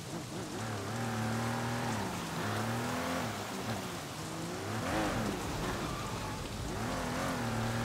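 Rain falls steadily in the video game Sleeping Dogs, a constant hiss that runs under a low engine hum and wavering tonal sounds from the game, all at a soft level.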